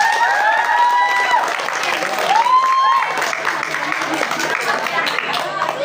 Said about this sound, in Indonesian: Sekali lagi beri tepuk tangan yang meriah.